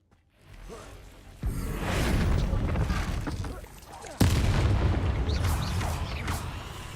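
Spell blasts and explosions in the Hogwarts Legacy video game: a sudden loud burst, roaring bangs sustained for seconds, then a second sharp crack and another long roaring blast, with a voice calling out over the din.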